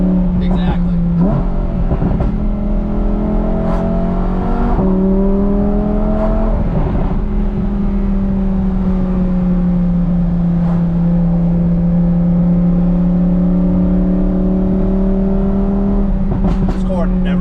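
A 2021 Lamborghini Huracan V10 fitted with an FI exhaust revs loudly and close, its deep engine note climbing and settling in steady throttle blips with brief crackles, while people talk over it.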